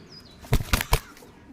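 A pigeon beats its wings in three quick, loud flaps close by, each a sharp burst, then falls quiet, with no talking.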